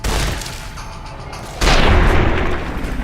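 A firearm is fired in Fallout: New Vegas, producing a heavy booming shot with a sharp onset followed by a rumbling tail, preceded by a lighter blast, loud and close with no talk over it.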